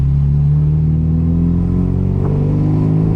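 A 1973 Mini Cooper engine revs hard in second gear on a winding road, giving a loud, close, continuous buzzing drone that holds a steady high pitch and rises slightly toward the end.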